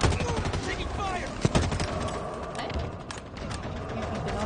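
Gunfire in the video game Halo Infinite comes as dense, rapid bursts with one sharp louder crack, layered over a busy mix of game sounds.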